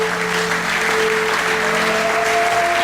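A church congregation applauding, a dense continuous clatter of many hands filling the room at steady loudness, with a held tone running underneath.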